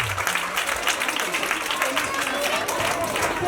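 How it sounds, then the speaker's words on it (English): A crowd at a learning center's first anniversary event in Ghana applauds steadily throughout, with voices talking over the dense clapping. "Clap for yourselves once again."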